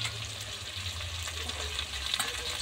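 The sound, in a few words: crab frying in oil for crab curry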